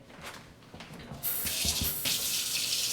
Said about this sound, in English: We're rinsing in cold water.